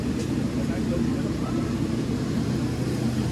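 Airplane cabin noise in flight between Dubai and Mumbai: a steady, loud low-pitched engine drone with an even broadband hiss that holds constant throughout, with possible faint murmuring voices beneath it.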